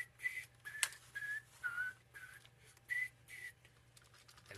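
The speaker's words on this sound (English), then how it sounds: "All the engines gave Gordon a whistle for him for good luck." Steam engines give a series of short whistle toots, several separate high bright blasts spaced irregularly over a low steady hum, with no one talking.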